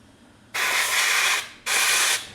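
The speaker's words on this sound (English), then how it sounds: "using the compressed air is to help blast out any dirt or general crap that could fall into the glow plug hole" Two bursts of compressed air hiss loudly from a nozzle, blowing dirt out of a glow plug hole on cylinder 4 of a high-mileage Audi A6 C6 Avant 3.0 TDI V6, the first long, the second shorter after a brief pause.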